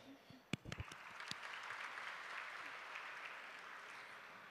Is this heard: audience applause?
yes